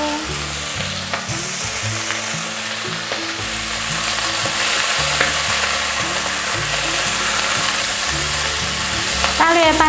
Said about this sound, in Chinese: 大略拌炒一下